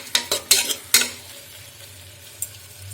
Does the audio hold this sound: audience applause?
no